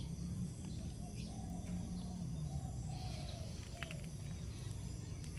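Birds chirp and call in the rural Thai countryside, light scattered tweets over a steady hum of insects, distant and faint with no one speaking.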